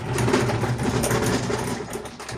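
A homemade DIY parts washer machine runs loudly and steadily, a continuous mechanical drone with a rough, buzzing texture holding at an even level throughout.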